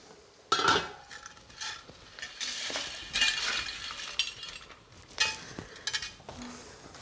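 Utensil scrapes and stirs pasta through a pot of boiling water with light clinks and sloshing, irregular swirling motions close by.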